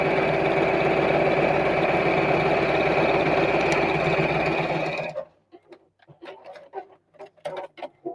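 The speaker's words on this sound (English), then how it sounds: "I'm sewing from the back, so I can sew over the same line that I've just sewn" Sewing machine stitching fabric, a loud rapid mechanical whir running steadily for about five seconds before stopping, followed by quieter scattered handling clicks and rustles.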